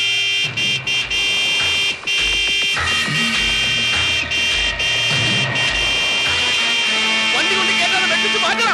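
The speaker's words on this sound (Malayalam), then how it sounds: "നീ ഹോണടിച്ച് വണ്ടി വിട്" A vehicle's horn sounds in repeated loud, blaring blasts broken by short gaps, over engine and road noise, with voices faintly mixed in.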